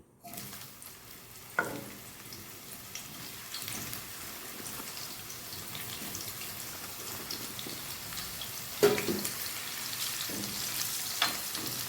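Dried bitter gourd pieces sizzle steadily in hot oil, a close, continuous crackling hiss broken by a couple of sharper clinks and stirs.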